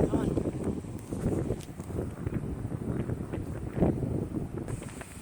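Wind gusting on a cloudy, windy 65-degree day at Nehalem Bay State Park on the Oregon coast, buffeting the microphone with rough, fluctuating rumble beneath ongoing talk.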